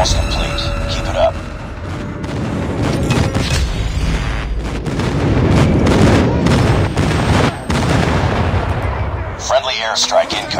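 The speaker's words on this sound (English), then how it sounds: "Friendly airstrike incoming." Airstrike explosions in the mobile game Call of Duty Mobile on the Nuketown map, a rolling series of heavy booms and gunfire building over several seconds, loud and close, with game voice callouts.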